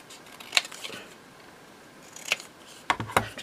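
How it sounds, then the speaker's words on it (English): Scissors snipping around a Christmas card topper during cardmaking, a few sharp close metallic cuts spaced out with a quick double snip at the end, quiet room behind. "Just going to cut around it so it's straight."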